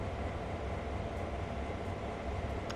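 Steady, continuous rumble of a train running in the video game Train Sim World 2 on the Sand Patch Grade route, a dense, even drone throughout with no voices.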